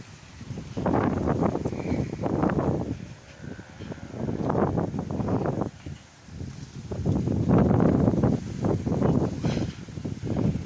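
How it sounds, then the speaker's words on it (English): Strong wind blows outdoors beside open water under clear skies, roaring across the microphone in loud gusts that swell and ease repeatedly, with no voices. "A lot of wind."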